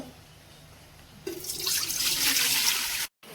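Water is poured from a tap or vessel into a steel 10-slot idli steamer pot for steaming momos, a sudden splashing rush that starts partway in and runs steadily before cutting off, close and alone.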